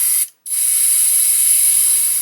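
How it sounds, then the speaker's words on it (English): Gaahleri GHAC-98D airbrush sprays thick paint into an airbrush cleaner as a loud, steady, close hiss, cut by one brief pause near the start before the spray resumes and holds, with a faint low hum late on. "I'm going to spray all this out into the airbrush cleaner."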